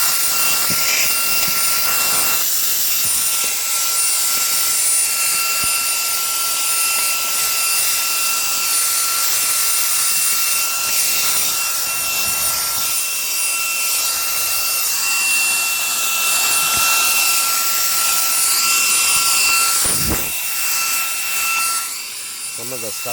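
A Reikiya mini handheld cordless vacuum cleaner whines steadily at close range while being worked over a car seat, its high-pitched motor tone holding nearly unbroken, with a short dip near the end.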